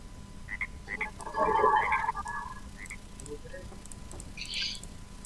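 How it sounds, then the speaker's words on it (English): Frogs in the Minecraft video game croak in a few short, close calls, with a higher chirping burst near the end over a faint steady background. "These frogs are really annoying."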